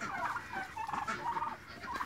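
Several farmyard turkeys gobble in quick, warbling bursts that overlap one another, moderately close, with no talking.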